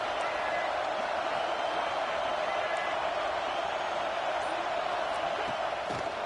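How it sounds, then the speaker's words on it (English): A simulated Ohio State home stadium crowd in a college football video game roars steadily on third down, a dense continuous wash of distant cheering at constant loudness throughout. "The Buckeye crowd alive on third down."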